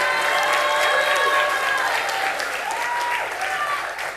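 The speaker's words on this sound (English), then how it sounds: "Give them a round of applause." Sustained, dense applause from an audience at a school quiz event, loud and steady, slowly thinning toward the end, with crowd murmur mixed in.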